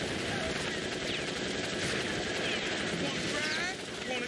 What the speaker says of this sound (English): You're in control of a turret gun. Use the analog stick to aim and the X button to shoot.